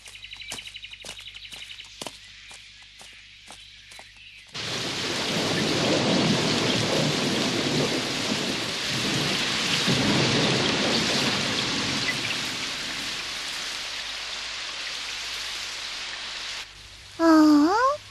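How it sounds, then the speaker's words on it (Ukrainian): A heavy thunderstorm: after a few seconds of quieter dripping and knocks, loud continuous rain pours down with low rolling thunder for over ten seconds, then drops away before a brief burst of birdlike chirps. "У таку погоду я нікуди не зможу піти. От би перестало дощити."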